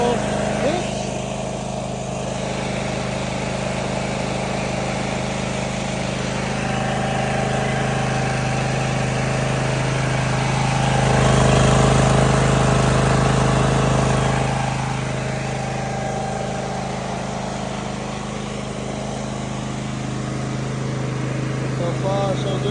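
A zero-turn mower engine idles while warming up just after a choke-down start, a steady near rumble with a slight swell in the middle and no change in pace; brief talk sits faintly beneath it.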